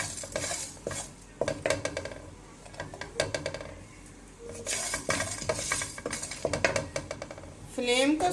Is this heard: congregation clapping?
no